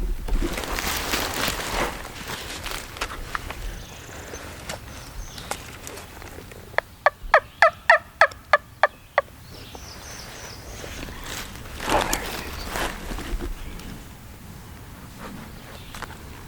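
A wild turkey gobbler on an Alabama ridge top gives a quick, rattling gobble at close range, a burst of rapid pulses amid quiet woods with faint rustling and footsteps.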